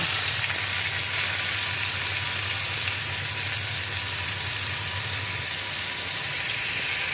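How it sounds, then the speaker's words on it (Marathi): Finely chopped onion sizzles in hot oil for a spicy prawn masala, giving a loud, dense, unbroken frying hiss that holds steady throughout with no talking. "आता ह्या तेलामध्ये मी बारीक कापलेला कांदा टाकणार आहे।"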